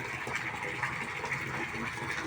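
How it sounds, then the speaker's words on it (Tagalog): Water pump filling a concrete tilapia pond, a continuous rushing gush of water pouring steadily, fairly close and uniform throughout. "pinagana po natin yung water pump para may tubig"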